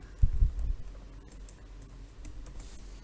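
Text being typed on a computer keyboard: a short burst of soft, fairly close key clicks at the start, then quieter scattered taps over a low background hum.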